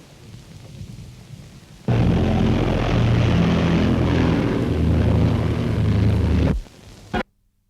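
Pilotless radio-controlled RAF plane flying at the Farnborough air display, its engine roaring in suddenly and loud, holding steady for several seconds before cutting away, with a fainter rumble before and after.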